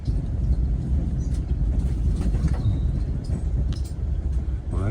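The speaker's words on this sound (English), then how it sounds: "that's MBTA train 735, bound for Forge Park" MBTA commuter train bound for Forge Park rumbles past on tracks approaching Boston, a loud, steady low rolling roar with faint high wheel squeals, heard from aboard another moving train.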